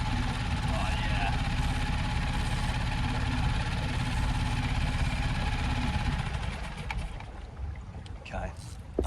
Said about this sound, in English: I'm not going to stop the engine because I don't want to drift into like a fisherman.